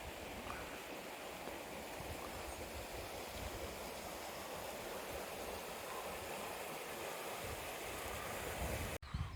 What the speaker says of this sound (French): Jolie rivière.